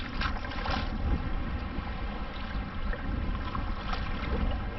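Steady wash of choppy water and boat wake on open water during high tide, with low rumbling wind noise across the microphone and no voices.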